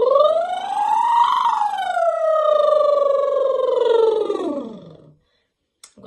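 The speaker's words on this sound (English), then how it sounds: "that's your classic lip trill in a siren" A voice does a lip trill, buzzing lips sliding up and down in pitch like a siren, sustained for several seconds before stopping.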